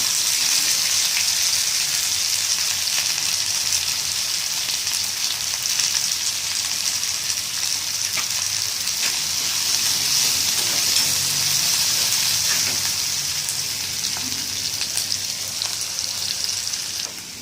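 Brinjal, tomato and fenugreek curry simmering in a pan, giving a steady, close hiss and sizzle that runs unbroken throughout with faint crackles and no talk.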